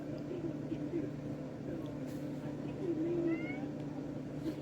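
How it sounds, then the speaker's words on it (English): A pet cat gives a few faint, short meows indoors against a low steady hum, with quiet background sound between the calls. "Miss Dutchie, she is a beautiful cat"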